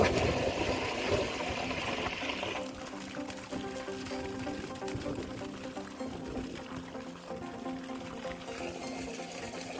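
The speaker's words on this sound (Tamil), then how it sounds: "இப்போ நம்ம தண்ணி பாய்ச்சிடலாம்." Water running into a garden bed of freshly sown small spinach greens for irrigation, a steady splashing pour with a faint mechanical hum underneath, continuous and moderately quiet throughout.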